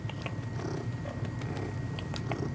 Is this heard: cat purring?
yes